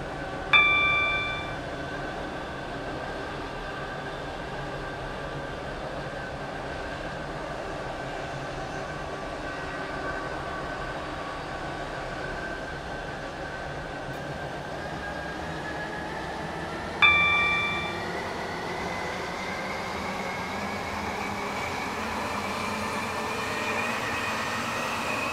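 An onboard recording of a Waterline passenger train travelling toward Esterfield, with a steady running rumble and hum along the rails and two short chimes, one at the start and one partway through; no speech.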